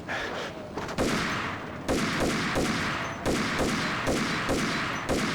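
Sniper and rifle shots ring out in a shooter video game, a series of loud sharp cracks at irregular intervals, each trailing off in a short echo.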